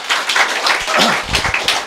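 Audience at a lecture on detox home cooking clapping, a short, loose patter of hands with uneven bursts, close and moderately loud, with a brief voice sounding in the middle.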